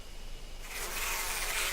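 Buzzing of bees swarming around a giant beehive in the Death Mark video game, a steady insect drone that swells louder after a quiet start and holds without pause.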